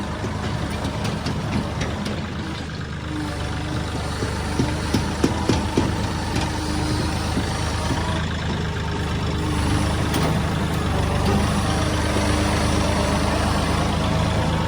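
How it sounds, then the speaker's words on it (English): A Kioti CK3510 HST compact tractor engine drones steadily with a 5-foot Titan brush hog mower running, low and rumbling, rising slightly toward the end with a few clattering knocks as it hits sticks. "All right, that's a little bit of brush hogging."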